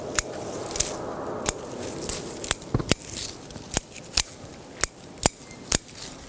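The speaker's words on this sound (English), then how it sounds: "I'll just cut a few of these leaves off." Scissors snipping leaves off a leaf-scorched maple, a dozen crisp separate cuts with short pauses between them, each followed by a faint leafy rustle, close and clear over quiet outdoor ambience.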